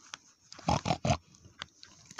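A pig oinks in a short burst of three close, loud grunts in quick succession, followed by softer snorts and scattered small sounds.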